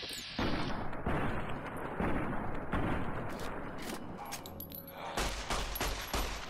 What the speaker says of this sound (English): Screw this, where's my pistol? Shoot him in the face.